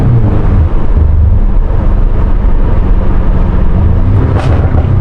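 A BMW M5 Competition with its stock exhaust crackles and burbles loudly on backroads, a dense low rumble with popping bursts heard from inside the car, with no talking.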